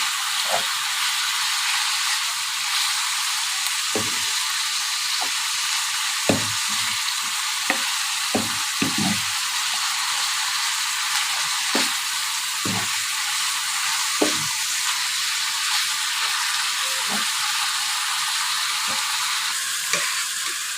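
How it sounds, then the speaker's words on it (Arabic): A spoon stirs macaroni in a pan, scraping and clinking at irregular intervals over a continuous loud sizzle of frying. "نقلب المكرونه بتاعتنا يا حبايبي"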